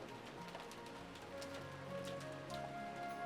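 Steady rain hisses across the whole stretch in the Rose Guns Days video game, a dense, even wash of falling drops with faint tonal background sounds drifting through it.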